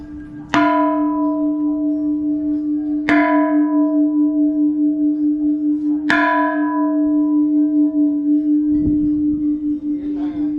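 A large bell on Ko Si Chang island, Thailand, is struck three times at even intervals, each strike ringing out loud and clear, its deep hum lingering long after.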